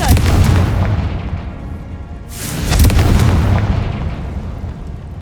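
A Confringo fire spell from Hogwarts Legacy erupts in loud, rumbling booms, with one blast at the start and a second heavy burst near the middle, each rolling away into a dense roar.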